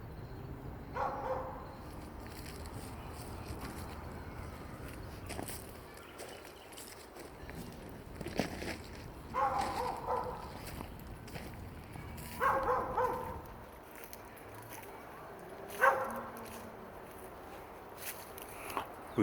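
A dog in a backyard garden gives a few faint, spaced barks from some distance, separated by quiet stretches of soft outdoor ambience.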